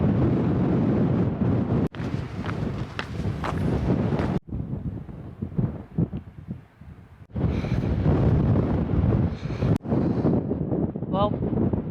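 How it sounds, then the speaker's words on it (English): Strong gusts roar across the microphone on an exposed hillside along the Pennine Way between Byrness and Kirk Yetholm, loud and buffeting, dropping briefly between gusts, with a voice speaking intermittently. "Well, the wind's definitely picking up now."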